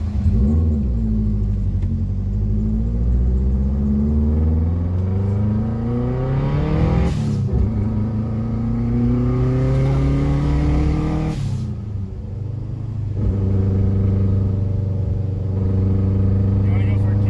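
A Subaru WRX fitted with a stiff racing clutch revs its engine in repeated rising pulls, a loud close rumble that climbs and drops back several times.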